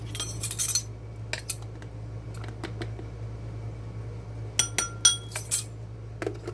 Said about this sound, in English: I am going to add 1 teaspoon of ground mustard